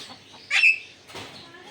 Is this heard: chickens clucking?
yes